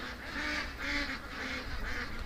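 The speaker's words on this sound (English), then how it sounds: "all the ducks just decided to come back" Ducks in a yard call out in a run of repeated nasal honks and quacks, rhythmic and moderately close, over a quiet outdoor background.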